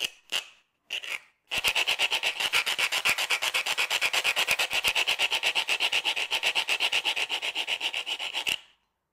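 A Perma-Grit tool cuts thin mirror plywood with a fast, even rasping, dozens of crisp back-and-forth strokes in a steady rhythm after a few short opening scrapes, close and clear with no talk.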